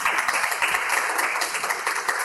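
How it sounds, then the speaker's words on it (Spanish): An audience claps loudly and continuously at an anniversary celebration in a village, a close, dense patter of many hands filling the whole moment. "Aplauso para Manuel."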